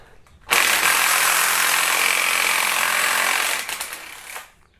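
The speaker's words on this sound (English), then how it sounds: "We're going to remove the mount for the high pressure fuel pump, 12mm socket." A ratchet with a 12mm socket working loose the high pressure fuel pump mount on a Kia Optima cylinder head: one loud, dense, continuous ratcheting buzz lasting about three seconds, close up, then tapering off in a few sputters.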